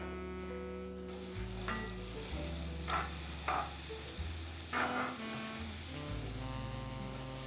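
A pat of butter sizzles in a frying pan on a hob, a continuous close crackling hiss with a few brighter spattering bursts, and no voices over it.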